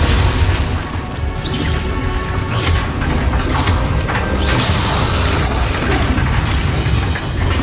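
Explosive spell blasts in the Hogwarts Legacy video game go off in quick succession, a loud run of booms, crashes and bursts layered over a constant rumble.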